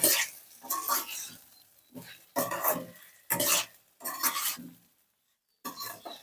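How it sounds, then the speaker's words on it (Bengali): Potatoes being stirred into fried masala in a pan for a kuche fish curry, heard as several loud, close bursts of scraping and sizzling strokes separated by short pauses, with no voices. "আলুটা দিয়ে একটু নেড়ে চেড়ে নেব যাতে আলুর গায়ে মশলাটা লেগে যায়"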